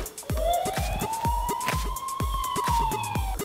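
A toy fire truck siren from a Tayo rescue toy set wails in a steady rising-and-falling tone, punctuated by repeated sharp clicks or taps throughout, close and fairly loud.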